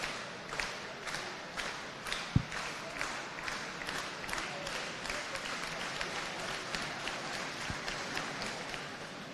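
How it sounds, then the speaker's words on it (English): Crowd at an indoor athletics championship claps in a steady rhythmic beat for a pole vaulter's attempt, the even pulse heard at moderate distance, with a couple of dull thuds mixed in. "It's got the crowd going, everyone clapping."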